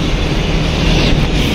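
Metro train at Dwarka metro station in Delhi, a steady loud rumble of running wheels and motors filling the whole stretch, close and continuous with no voices.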